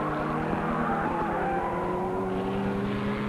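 Production saloon race cars, Ford Escorts and Opels, racing at Phoenix Park in 1979, a loud sustained engine roar with shifting pitch as cars pass close by.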